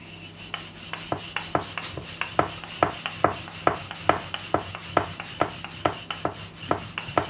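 Aloo paratha dough is rolled out on a floured working surface, giving steady rhythmic rubbing strokes roughly twice a second, close and moderately quiet, with no talking.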